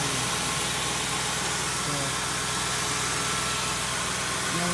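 A 2002 Mercury Grand Marquis GS with the 4.6-litre two-valve V8 idles steadily with a low, even rumble, close by, while a person speaks briefly over it.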